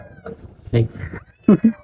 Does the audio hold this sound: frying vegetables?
no